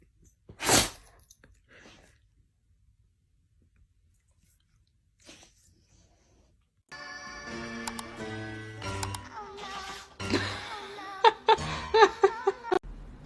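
A dog gives a sharp, brief sneeze near the start, followed by near silence and then a stretch of quiet clicks and rustling toward the end.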